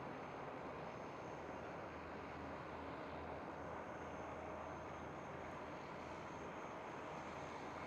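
A departing airliner at Amsterdam Schiphol airport gives a loud, steady jet engine roar that fills the whole stretch without letting up, with no talk over it.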